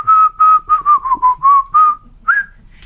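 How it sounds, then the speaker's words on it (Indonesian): A person whistles a clear tune of about eight short sustained notes in a steady rhythm, close and loud, followed by a brief rising note and a faint high tail. "Saya siul lagi."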